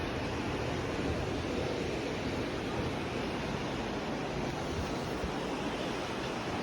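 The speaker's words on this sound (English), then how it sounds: "You hear the waves." Ocean surf at a beach resort at night, heard from an upper floor: a steady, soft wash of breaking waves, broadband and continuous without distinct crashes, faint and distant with no voices.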